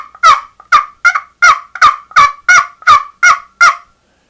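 A turkey pot call worked with a striker on the hen side gives ten crisp, evenly spaced yelps, loud and close, each a short raspy note, with no other sound between them.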